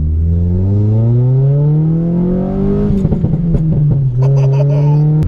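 A Nissan Sentra SE-R Spec V compact sport sedan accelerates hard, its engine note climbing steadily, then a quick upshift break around three seconds before the revs pull up again, loud and close from inside the car.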